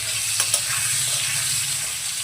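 Potatoes fry in a pan with red chilli powder, giving a steady, close hissing sizzle, with a couple of quick stirring clicks near the start.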